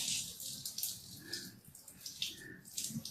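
Water pouring steadily out of a container in a classroom fluid demonstration, a continuous close splashing gush with small fluctuations and no talking.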